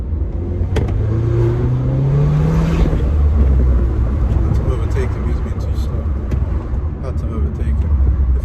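A remapped 2-litre petrol Audi TT mk2 with a manual gearbox accelerates, its engine rumbling and rising in pitch from inside the cabin, with road noise throughout and a person talking over it.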